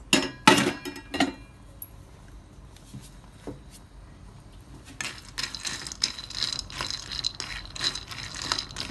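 A metal ladle clinks and scrapes against a pan while peanuts roast over a gas flame, sharp clatters early, a quiet stretch, then busy rattling stirring for the last few seconds.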